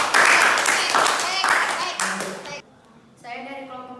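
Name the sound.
classroom applause for group 2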